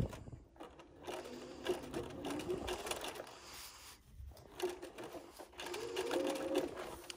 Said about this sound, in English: And now I'm just going to stitch on the edge.